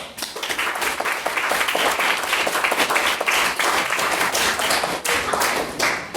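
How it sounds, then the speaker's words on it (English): A debating-society audience gives a sustained round of applause: dense, continuous clapping from many hands, loud and close throughout. "I think he does deserve a round of applause"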